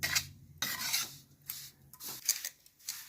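Green moong dal roasting in ghee in a pan, a soft intermittent scraping and rubbing as the lentils are stirred, in several short bursts with brief pauses, close and fairly quiet, no voices.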